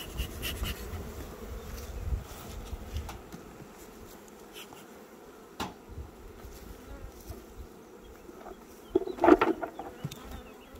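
Honeybees buzzing steadily around an open beehive, a close, continuous hum with occasional clicks and knocks from handling the hive frames; no talking.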